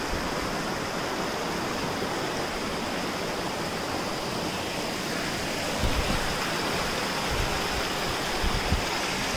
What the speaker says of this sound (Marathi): ओहोळ वरून डोंगरातून वाहत वाहत येत खालती समुद्रात बीचवरती मिळतं